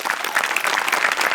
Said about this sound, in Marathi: सगळ्यात आधी टाळ्या वाजल्या पाहिजेत मोठ्यांसाठी आणि अभिजित पवारसाठी